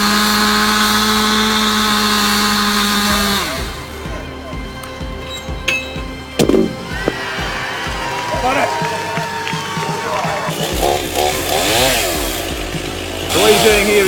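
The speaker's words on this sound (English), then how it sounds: "He's using a chainsaw that is state-of-the-art." A state-of-the-art chainsaw runs at a steady whine while felling a tree at a show, then cuts out into clinks and rustles before revving up again near the end.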